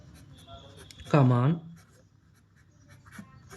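A pen writes out an equation during a class 10 maths lesson, with faint scratchy strokes and a brief voice in the middle.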